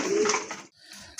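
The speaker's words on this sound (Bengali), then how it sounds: "প্রথমে আপনারা দেখতে পাচ্ছেন এক জোড়া রেসার কবুতর" A pair of racer pigeons cooing close by, one soft low coo followed after a short pause by fainter murmuring.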